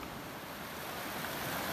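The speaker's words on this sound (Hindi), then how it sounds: "सब लोग नदी पार कर रहे हैं" Several people wade across a shallow hill river with no bridge on a jungle trek near the Indo-Nepal border; steady rushing water and splashing fill the whole stretch at an even, fairly loud level, with no voices.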